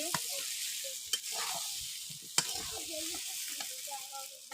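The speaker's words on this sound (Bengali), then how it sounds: "এই দেখুন ভালো করে কষে নিচ্ছি" Masala stirred and sautéed in a pan, a steady sizzle with occasional sharp scrapes and clinks of the spatula, close and fairly quiet throughout.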